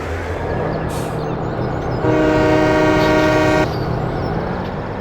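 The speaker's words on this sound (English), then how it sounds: "Let's start a train, shall we?" A train in Farming Simulator 17 starts up: a steady mechanical rumble runs throughout, then a loud sustained horn-like tone swells for about a second and a half before cutting back to the running engine drone.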